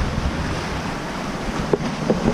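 Ocean waves and surf on the beach at a resort in Tulum, Mexico, a steady loud roar of breaking water mixed with wind buffeting the microphone.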